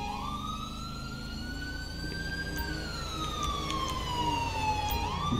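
Wailing ambulance siren in GTA LSPDFR, a steady loud electronic sweep that rises and falls slowly across the whole stretch, with vehicle engine rumble underneath.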